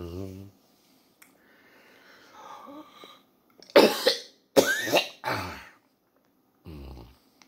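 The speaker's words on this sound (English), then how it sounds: "Trying to clear my throat." A man clears his throat and coughs, with a few harsh, raspy bursts in the middle, close and loud, between brief stretches of quiet and low sounds.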